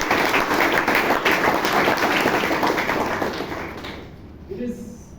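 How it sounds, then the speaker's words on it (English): A Toastmasters club audience in Bangalore applauds its past presidents, with steady, fairly close clapping that fades out over the last second, followed by a few faint thumps. "Can you round of applause to all of them?"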